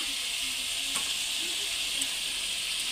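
Ground cumin, coriander and chili powder sizzle in hot oil in a pan for a rohu fish curry, a steady soft hiss with faint crackles, quiet and close.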